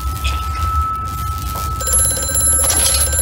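An old-fashioned telephone bell rings steadily in the dark, flooded setting of the horror game Amnesia: A Machine for Pigs, a sustained metallic trill over a low rumbling ambience, with a second layer of ringing joining partway through.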